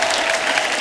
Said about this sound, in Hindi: एक बार हमारे मेहमानों के लिए जोरदार तालियां।